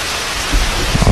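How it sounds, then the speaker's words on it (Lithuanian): Rain falling with a low rumble of thunder: a steady, even hiss throughout, with a deeper rolling rumble swelling in during the second half. No one speaks. "Lietus lyja."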